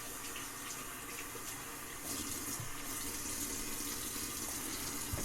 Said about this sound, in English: I'm going to rinse the stone off really, really good and rub it with my hand.